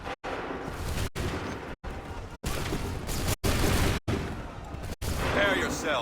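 Musket volleys in the Assassin's Creed 3 video game crack out on command, several dense, loud bursts of massed gunfire separated by short silent gaps, with battlefield clamor filling the spaces.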